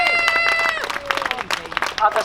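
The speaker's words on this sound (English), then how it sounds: "let's give a round of applause to the huge remnant of the postal workers" An audience at a May Day rally applauds postal workers, a dense burst of crowd clapping that swells in after a sustained tone and some noise, with voices mixed in.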